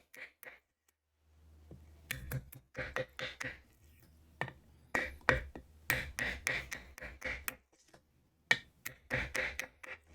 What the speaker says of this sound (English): The good thing about the hammering is it's not that often.